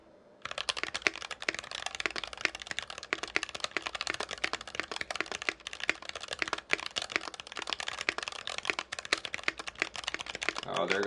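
Rapid, continuous typing on an NK65 Entry Edition mechanical keyboard with Tealio V2 switches, dense clacky keystrokes up close at an even, quick pace for about ten seconds, then stopping.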